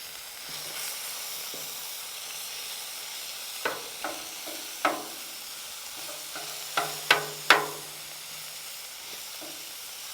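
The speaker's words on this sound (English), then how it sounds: "we got some ground beef on the gridiron now for the nachos" Ground beef for nachos sizzles on a gridiron over a campfire outdoors, a steady hiss broken by a few sharp scrapes and taps toward the end, with no talking.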